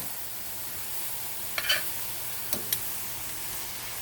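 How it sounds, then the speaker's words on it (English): Colorful vegetable mixture sautéing in a pan for zucchini spaghetti, a soft steady sizzle with a few light clinks of a utensil against the pan. "So let this saute while I go ahead now"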